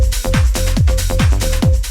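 Driving four-on-the-floor techno beat with heavy kicks and a steady high tone, a DJ transition blend with low-pass filtered layers, loud and continuous with no voices.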